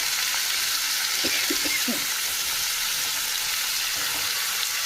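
Potatoes fry in oil tempered with black cumin seeds, a steady, dense sizzle heard up close, with a few soft stirring knocks early on and no voices.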